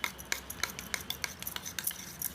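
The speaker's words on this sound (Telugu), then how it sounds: "ఉప్పు కలిసిన దాకా కలపాలి." Soft, rhythmic scraping and rubbing of a spoon stirring salt into curd, repeated quick strokes close by, quiet with no talking.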